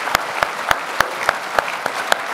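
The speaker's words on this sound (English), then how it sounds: "why don't we give a round of applause to James Scott and Marie Vallejo?" An audience at a talk about returning to the Philippines claps for the guests, a close, steady patter of applause with distinct individual claps at a regular beat.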